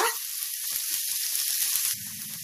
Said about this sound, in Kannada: ಈಗ ಈರುಳ್ಳಿ ಫ್ರೈ ಆಗಿದೆ